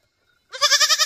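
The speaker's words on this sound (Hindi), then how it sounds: "कितना प्यारा बकरी का बच्चा होता" A young goat kid gives one loud, close bleat that starts after a moment of silence and wavers in a rapid quavering pulse.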